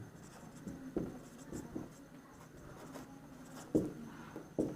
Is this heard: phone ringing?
no